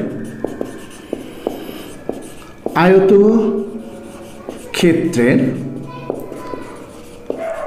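Marker or chalk writing on a board in a maths lesson on circle area, heard as a series of short taps and strokes, some between and some under a teacher's spoken explanation.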